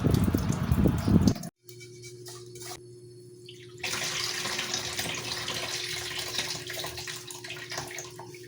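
Tap water runs over vegetables being rinsed before draining, a steady splashing stream broken by a brief pause, then resuming with a hiss and gurgle, close and moderately loud.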